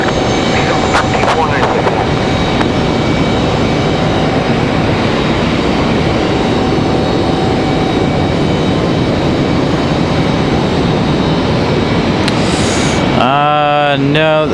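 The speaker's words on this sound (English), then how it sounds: "Delta number 2, that A321 Neo. They're headed to Salt Lake City, Delta 2496." A Delta Airbus A321neo bound for Salt Lake City departs Raleigh-Durham airport, its jet engines a loud, steady roar that fills the whole stretch. A voice cuts in briefly near the end.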